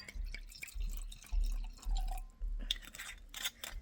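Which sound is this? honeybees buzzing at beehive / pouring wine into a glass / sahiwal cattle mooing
pouring wine into a glass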